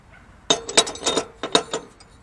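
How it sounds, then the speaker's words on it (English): Metal parts clink and tap as a new pulley goes onto a Poulan mower deck spindle, a cluster of sharp, close metallic knocks in two quick bursts with brief pauses, no talking. "Now we're gonna put new pulley in."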